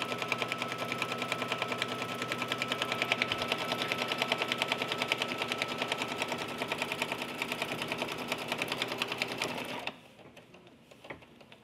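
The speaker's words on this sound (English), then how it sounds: "This step is actually stitching a line that is seaming the two fabrics to" Embroidery sewing machine stitching a baby bib in the hoop, seaming two fabrics to stabilizer and batting: steady, fast mechanical needle rhythm, close and even, running alone for about ten seconds before stopping abruptly into near silence.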